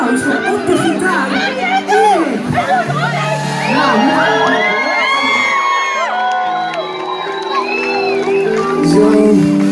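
Concert crowd at a show cheering loudly for the guitarist, with whoops, shouts and excited chatter layered over one another throughout, loud and close.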